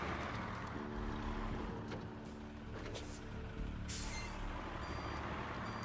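A heavy truck in the off-road game SnowRunner rumbles along with a steady low engine drone, a sharp air-brake hiss near the end and faint beeping tones, with no voices.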